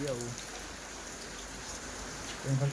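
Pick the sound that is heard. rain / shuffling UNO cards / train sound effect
rain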